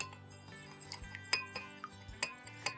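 A spoon clinks against a pot several times in an irregular rhythm, close and fairly quiet, over a low steady hum, as stuffed peppers in water are stirred.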